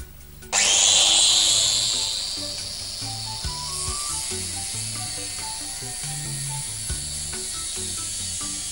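A power tool cutting metal plate while building a motorcycle lift table, throwing sparks: a loud, sudden high-pitched grinding whine starts abruptly and holds steady, easing slightly as the cut continues, with some lower rumbling underneath and no talk.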